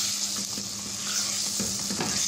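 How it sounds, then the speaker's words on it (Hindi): Chicken pan-frying over a medium flame for Lahori murgh cholay gives off a continuous, fairly loud sizzle. Intermittent stirring scrapes and knocks sound through it, and no voices are heard. "चिकन को इसमें हम अच्छी तरह फ्राई कर लेंगे, भून लेंगे।"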